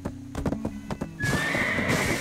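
Hooves clop in a quick rhythm, then a horse in a video game lets out a loud, close, drawn-out whinny.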